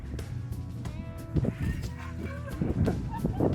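Mexican gulls being fed at a lagoon in Yucatán give squawking and honking calls in short bursts, with several birds close by amid outdoor background noise.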